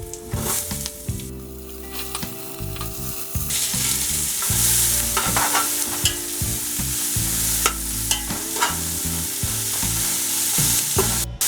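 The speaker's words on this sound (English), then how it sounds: "Cooking after 1 minute on slow heat, I am going to add onion." Onion frying on slow heat for a desi goat curry sizzles loudly and steadily, with scraping stirs of a spoon against the pan throughout; close by, no talking.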